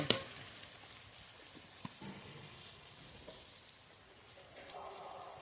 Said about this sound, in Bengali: মশলাটা এবার কিছুক্ষণ কষিয়ে নেব নেড়ে চেড়ে